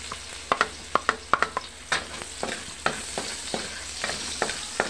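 Garlic sautés in a pan for a home-style bangus (milkfish) steak: a constant close sizzle broken by sharp, irregular clacks of a utensil stirring and scraping against the pan.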